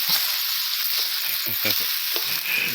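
Spicy chicken stir-fries in a smoking pan, a loud, continuous sizzle with a few stirring knocks and scrapes cutting through it.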